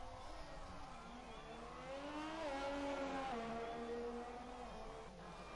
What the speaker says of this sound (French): Une moto qui sort des stands.